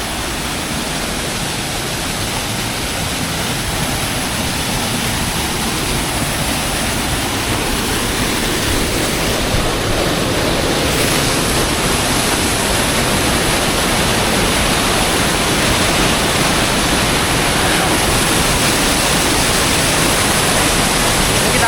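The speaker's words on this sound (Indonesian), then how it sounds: "Di bawahnya ada air terjun juga kecil-kecil ya." Continuous rushing water roars steadily without letup, a dense broadband wash from the nearby Tancak Panti waterfall in Jember, Indonesia, filling the whole stretch.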